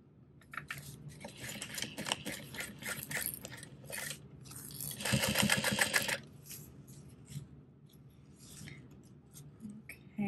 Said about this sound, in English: we're going to sew this with a 3/8 inch seam allowance